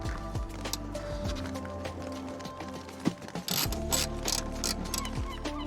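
Ratchet wrench clicking in quick repeated bursts while loosening window regulator bolts inside the door of a Skoda Octavia Mk1, close up, with metallic rattles and a brief louder clunk midway.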